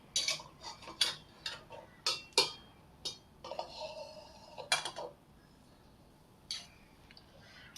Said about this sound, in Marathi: आणि आता आपण हा पकडणी पकडून बाहेर काढून घेऊया.